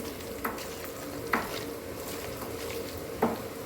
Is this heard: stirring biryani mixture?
yes